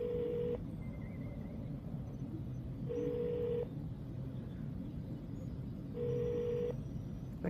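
A hotel room telephone rings unanswered: three evenly spaced electronic ring bursts, each about half a second long, repeating roughly every three seconds over a low background hum.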